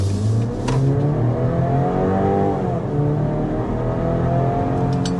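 A 2025 BMW X3 or Mercedes GLC is heard from inside while it accelerates to 60 mph on a slight downhill grade, its engine note rising steadily and loud throughout, with a brief dip and then a renewed climb.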